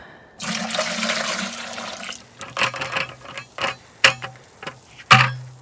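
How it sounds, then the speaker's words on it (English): Maple sap pours into a bucket outdoors, a steady splashing gush for about two seconds, followed by a series of sharp knocks and clunks from the bucket and gear. "let's get this one poured right into the bucket here with the other sap"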